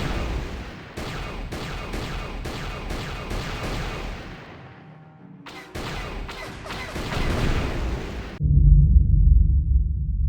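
Rapid bursts of blaster-style turret fire from Knights of the Old Republic, a space battle against incoming fighters, repeated sharp shots in quick clusters, a brief lull, then more volleys before a deep rumbling roar takes over.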